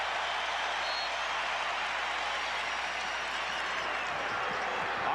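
Arena crowd at a Bulls–Cavaliers playoff basketball game at the Coliseum at Richfield, Ohio, a broad steady roar of cheering and clapping, distant and continuous throughout.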